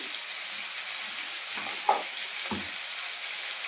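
Potato pieces frying in hot oil with salt and turmeric, a steady close sizzle broken by a couple of short scraping stirs in the pan, with no talking.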